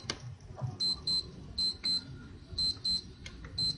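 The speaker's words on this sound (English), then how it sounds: "That is my alarm clock," An alarm clock beeps in repeated pairs of short, loud, high tones in a steady rhythm, alone over low background hum.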